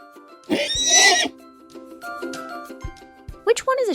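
A horse gives one loud, drawn-out neigh, followed by softer snorts and scattered farm sounds, then a brief high call at the end.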